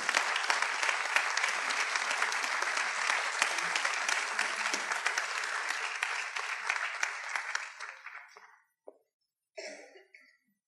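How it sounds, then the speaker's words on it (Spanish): A crowd applauding loudly and steadily in a library for about eight seconds, then the clapping dies out, followed by a couple of brief coughs. "Un aplauso para Pablo Marcano García."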